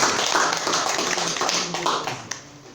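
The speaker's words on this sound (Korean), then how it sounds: "다 같이 한번 박수로 환영해주십니다" A congregation claps together during a Sunday church service to welcome newcomers, a steady, dense patter of many hands filling the sanctuary for about three seconds.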